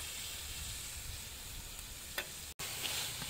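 Tomato sizzles and fries in a hot pan during cooking of pork with tapioca, a close, continuous crackling hiss with a brief dropout near the end and no talking.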